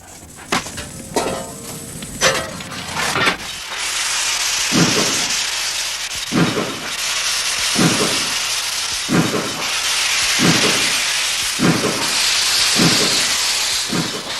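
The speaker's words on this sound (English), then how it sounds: "Steam engines evoke a special affection." A steam locomotive hisses steadily at close range, a loud continuous rush of steam broken by regular rhythmic chuffs, with a few clanks at the start.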